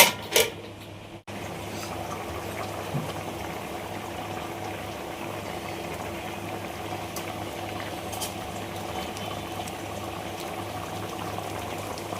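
Fish curry bubbling steadily in a pot, a continuous soft boiling simmer close by, with a brief clatter at the start and no talking.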